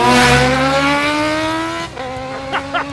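A KTM Duke 790 and a Suzuki GSX-S 750 launch side by side in a drag race, two engines roaring loud and close, their pitch climbing steadily as they accelerate, then fading away with gear-change blips.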